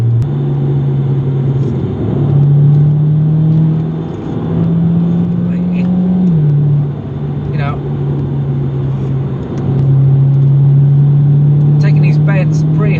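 A Jaguar XE being driven hard through bends, its engine a steady loud drone that rises and dips with throttle, with road rumble throughout and a person talking over it.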